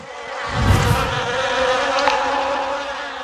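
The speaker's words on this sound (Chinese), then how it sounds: "这些蜜蜂这么喜欢我的这罐蜂蜜" Bees swarm around a jar of honey, a loud, continuous close-up buzzing with a droning hum that swells early and holds steady.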